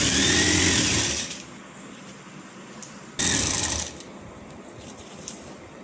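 A sewing machine runs in two short bursts while stitching a fold on a child's lehenga, a close whirring mechanical rattle that starts, stops, and starts again briefly with quiet between.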